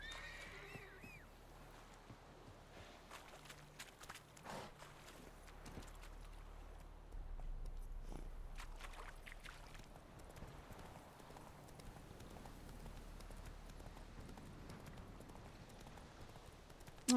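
Roach the horse's hooves clip-clop steadily along in The Witcher 3 game world, a continuous rhythmic trot over low ambient game background.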